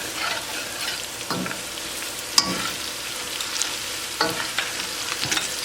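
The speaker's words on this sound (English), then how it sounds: "Cook green chili along with tadka for 1 minute" Green chili fries in a tadka of translucent onions for a Sarson da saag, giving a continuous close sizzle broken by occasional spatula scrapes and stirs, with no talking.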